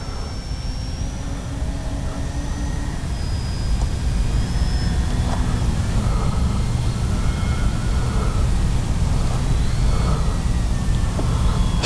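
An E-flite Beechcraft D-18 RC model airplane on landing approach gives off a steady whirring engine drone with a faint high whine, growing slightly louder partway through and holding without talk.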